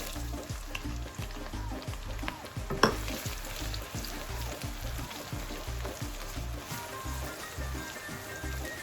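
Sliced onions dropped into hot oil with browned cumin seeds, frying with a continuous crackling sizzle and a brief louder splash near the start, accompanied by a rhythmic low thumping in the background.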